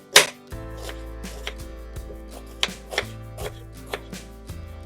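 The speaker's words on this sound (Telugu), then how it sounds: "ఉల్లిపాయని కొద్దిగా పెద్ద ముక్కలుగా కట్ చేసుకోవాలి" Knife chopping onion on a board: one sharp hit, then a run of irregular cuts over a steady low hum, with no talking.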